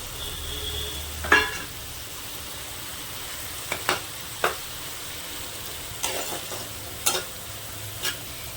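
Fried eggs are stirred into an egg curry in a pan, with a soft background sizzle and several sharp spatula scrapes and knocks at irregular intervals. No one speaks.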